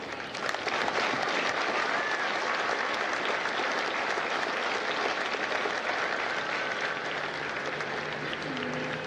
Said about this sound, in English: would you join me in a round of applause for the families of God's Company?